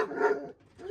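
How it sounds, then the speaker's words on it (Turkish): A Rottweiler puppy barks and yips close by in a single short burst that fades into a softer whimper at the end, with no talking. "Rottweiler'lar yani biraz daha saldırgan bir köpek ama Eva bakalım nasıl olacak."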